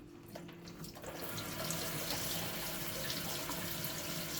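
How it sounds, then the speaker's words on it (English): Water runs from a kitchen tap into a sink to rinse chickpeas, a steady rushing stream that grows fuller after the first second and keeps flowing at a soft, even level. "I'll turn the water on and we'll rinse them"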